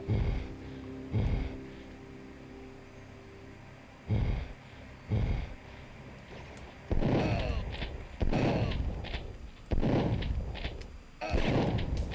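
Pipe bombs exploding in Duke Nukem 3D in a sewer level: about eight heavy booming blasts, some single and some in quick pairs, each with a rumbling decay over a constant low hum.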